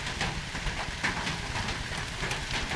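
Heavy rain pours outdoors in windy weather, a steady broadband wash with irregular drops tapping on surfaces close by, continuous and fairly loud.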